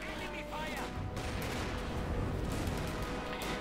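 MG42 machine gun fire in Company of Heroes 2, a dense continuous rattle of gunfire mixed with other battle noise, steady and moderately loud, with a commentator talking over it.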